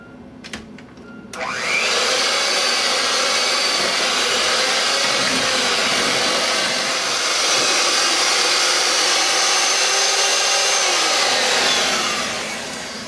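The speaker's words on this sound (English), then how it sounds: "With that blended in, we now blend in our eggs." An electric mixer runs steadily at close range for about eleven seconds, blending eggs into cookie dough for soft batch chocolate chip cookies, its motor whine starting abruptly and easing off at the end with no voices.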